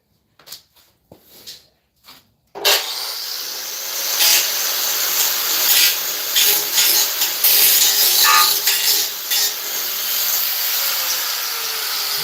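Grinding wheel on a power grinder working metal in a garage, a continuous loud hissing, rasping roar after a few brief clicks and knocks at the start.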